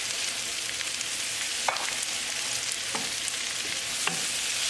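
Mushrooms sauté in butter in a pan, giving a steady close sizzle throughout with a few soft scrape-and-stir clicks of a utensil.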